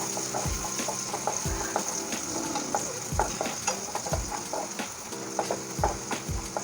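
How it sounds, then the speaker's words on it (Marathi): Tomatoes fry in a pan for a palak paneer base, with steady sizzling and repeated close scraping and stirring clicks of a spoon against the pan. "टोमॅटो आपला चांगला सॉफ्ट होईपर्यंत आपण त्याला फ्राय करून घेऊया"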